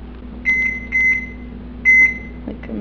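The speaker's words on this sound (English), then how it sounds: "I'm just going to microwave water and, like, put coffee in it." A microwave oven heating a cup of water for coffee gives a steady low hum, broken by several short, bright electronic beeps from its keypad.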